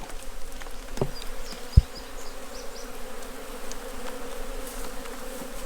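A steady, close buzz of many bees around open hive frames hums throughout, with a couple of faint knocks and clicks along the way.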